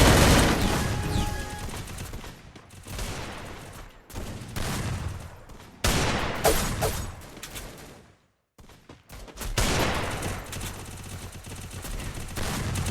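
A Desert Eagle pistol fires in a shooting video game, with loud bursts of gunfire repeating in clusters, short gaps between them and one brief near-silent pause, and no talking.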